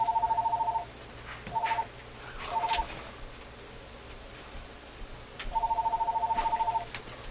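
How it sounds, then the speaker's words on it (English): A telephone rings nearby in a jukebox repair workshop, with three bursts of fast electronic trilling, the first and last longer than the short middle one, heard over faint background noise. "we'll let somebody else answer the phone here"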